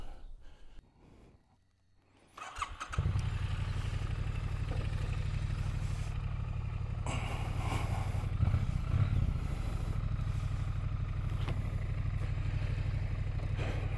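A Triumph Bonneville on adventure tires: after about three seconds of near quiet, the motorcycle engine comes in and holds a loud, steady, close low rumble for the rest of the ride.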